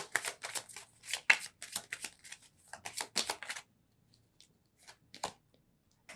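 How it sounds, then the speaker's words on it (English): Advice cards shuffled by hand for a card reading, a run of quick papery riffles and flutters in bursts for about three and a half seconds, then silence broken by a few soft taps and one more short riffle. "we're going to pull some advice cards now"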